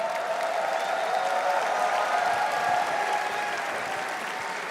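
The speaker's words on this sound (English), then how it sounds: "One last round of applause for OG, making the best of an unfortunate situation" Applause from the audience at the ESL One Berlin Major 2023 Dota 2 playoffs, a dense steady clapping that fills the room from start to finish with a faint crowd murmur underneath.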